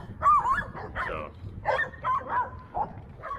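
Several dogs bark and yip in a loose, overlapping run of bursts at moderate distance over a low rumble of background noise, with a few higher yelps mixed in.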